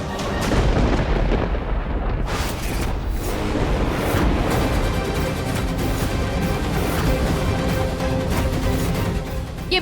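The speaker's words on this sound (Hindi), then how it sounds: "बेटा, तूफान पड़ रहा है" Heavy thunder rolls through a storm, a loud sustained rumble with booming surges that fills the whole stretch, with no voices over it.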